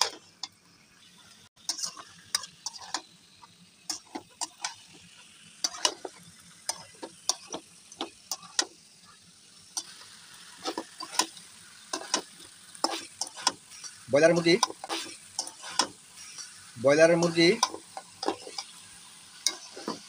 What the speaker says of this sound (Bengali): ভাজা পেঁয়াজের সাথে মাংসগুলো ঢেলে দিলাম। এখন নেড়ে চেড়ে মিশিয়ে নেই।